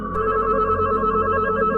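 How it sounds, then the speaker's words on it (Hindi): A phone rings as a sound effect in a horror story, a loud, sustained electronic ringtone with steady harmonic tones and no talking. "घंटी की आवाज फोन से नहीं, शमशान के अंदर से आ रही है।"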